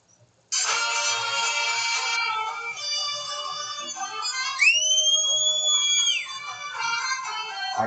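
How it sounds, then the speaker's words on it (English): A loud, shrill whistle starts abruptly, with a bright sustained tone that bends upward into a sharp rising-and-falling pitch near the end, close and alone. "I can whistle even louder than that."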